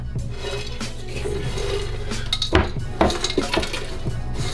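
Metal clatter and clinks as several items drop into a pot, with bright knocks near the middle and end over a steady background hum.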